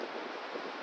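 Cold winter wind whipping outdoors on a frigid day, a steady broadband rushing roar with slight gusty swells, loud and close, alone with no voices.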